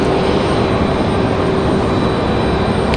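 A FedEx ATR turboprop at Raleigh-Durham airport gives off a loud, continuous engine drone with a steady propeller hum running underneath, constant and unbroken, with no talking.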